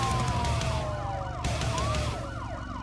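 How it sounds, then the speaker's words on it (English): Police sirens in a motorbike video game wail steadily, with several overlapping sweeping tones and a hint of engine rumble beneath, loud and continuous throughout. "I'm hearing the sort of police sirens"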